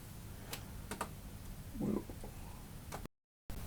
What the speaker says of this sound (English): zip tie this with 4 zip ties